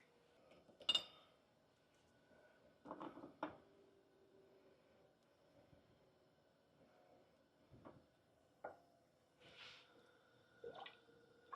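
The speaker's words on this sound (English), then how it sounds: "So let's get this ladled into our jars." Beef bone broth is ladled into quart canning jars, with scattered soft splashes, drips and clinks of the ladle against glass, quiet and intermittent with pauses between scoops.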